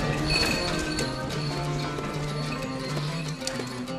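Donkey hooves clip-clop over the streets of Mardin, an old city in eastern Turkey, a steady close tapping rhythm running throughout over busy street background.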